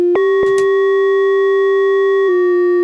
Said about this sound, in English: That's the sine wave. Pitch it down and up.